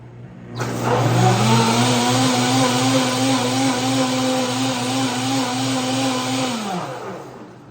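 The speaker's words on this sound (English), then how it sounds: "And now let's put it back on the blender" A Nutribullet 1200W blender mixing soapy water whirs steadily for several seconds, its motor whine rising slightly as it spins up and holding a constant, loud pitch before winding down.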